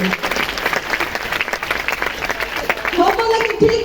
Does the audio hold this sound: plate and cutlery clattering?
no